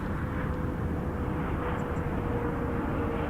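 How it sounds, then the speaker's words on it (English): A steady, moderately distant whine and rumble from an Air Wisconsin RJ200LR regional jet arriving from Chicago O'Hare and coming in to land at Toronto Pearson Airport, holding at an even level throughout. "We got an RJ200LR, Air Wisconsin, coming in from Chicago O'Hare on this side."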